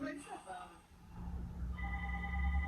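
A telephone bell rings in a room, its tone sounding beneath a person talking and rising clearer toward the end.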